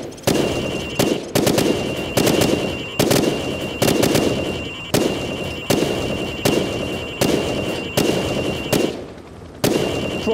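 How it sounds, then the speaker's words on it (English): Rifle shots fired at pop-up targets in Call of Duty 4, about a dozen loud, sharp cracks spaced roughly a second apart, each with a short decaying tail, while a thin steady tone runs underneath. "I want you to shoot the targets through the wood."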